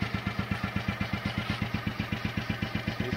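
A Royal Enfield motorcycle engine runs at a steady idle, its even, thumping beat pulsing rapidly and evenly, heard close with no talk.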